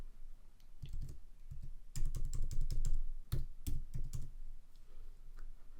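Keystrokes on a computer keyboard entering an item into a kiosk web page: a cluster of quick, close clicking taps, busier in the middle, with a short pause and a few more taps afterward.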